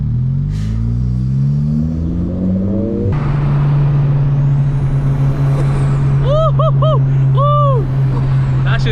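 Tuned 2017 Honda Civic Si with an E85 Garrett PRL big turbo revving loudly up close, steady idle drone then sharp rising and falling rev blips with turbo whistle.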